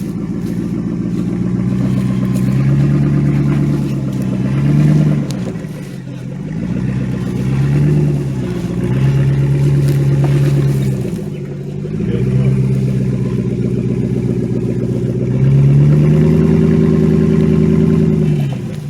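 A Jeep Grand Cherokee WJ on 37-inch tires climbs an off-road obstacle, its engine rising and falling in loud, labored revs that swell and ease repeatedly, with occasional clatter.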